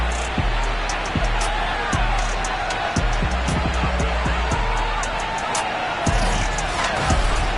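Stadium crowd at FedEx Field in the football video game Madden 22, a dense continuous roar of fans with scattered sharp thuds and claps, loud and unbroken throughout.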